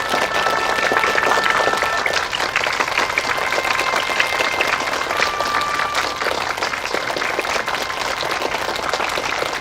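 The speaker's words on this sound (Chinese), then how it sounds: "大家鼓掌欢迎！" An assembled crowd at a factory meeting bursts into sustained, loud applause, dense clapping that runs evenly the whole time with no pause and no talk over it.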